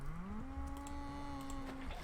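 A cow mooing in a Minecraft-style survival game, one long drawn-out low moo that rises slightly and holds steady for nearly two seconds, heard alone against quiet game ambience.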